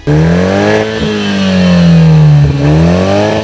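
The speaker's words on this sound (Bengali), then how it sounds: "থ্রি লিটার ইঞ্জিন সুপ্রাতে যে সাউন্ড আসে two litre সুপ্রাতে almost similar sound আসে" A 2021 Toyota Supra with the two-litre engine revs loudly and steadily nearby, its exhaust note rising and falling with a couple of brief dips, with no voices.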